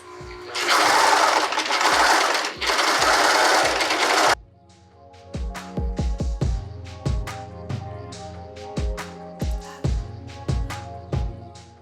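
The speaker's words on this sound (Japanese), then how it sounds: "このように作動レバーをかけると縮ませながらロックミシンができます。" An overlock serger with differential feed hems a curved skirt: two loud, steady bursts of fast whirring stitching, then a string of sharp mechanical clicks and knocks as the machine is handled.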